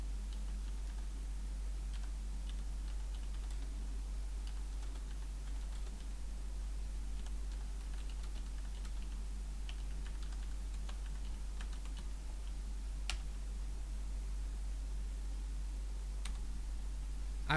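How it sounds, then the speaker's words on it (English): Rapid typing on a computer keyboard, a steady run of close, light clicks and taps over a constant low hum, with no voices. "I also suck at typing."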